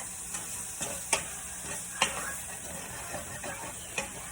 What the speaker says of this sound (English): Don't forget to stir your meat so that it doesn't burn.